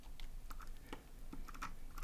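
Repeated computer keyboard key presses while modeling an industrial bar stool in Blender 2.8, with the L key tapped over and over; a steady run of close, light clicks with no talking.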